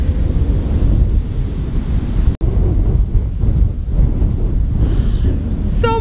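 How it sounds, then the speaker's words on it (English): Strong wind buffets the microphone at a scenic overlook on a forest byway in the Ouachita National Forest, Oklahoma, a loud continuous roaring rush with one brief dropout midway and no speech. "So much wind!"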